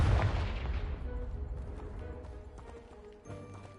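A blast from the Confringo spell in the video game Hogwarts Legacy, a single loud booming explosion that rumbles and decays over a few seconds, with a smaller thud near the end.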